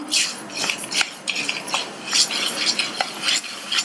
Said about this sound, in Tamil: சேர்த்த பாசிப்பயிரும் கடலை பருப்பும் வறுபட்டு ஓரளவு அதனுடைய கலர் மாறி வர வரையும் வறுத்துக்கலாம்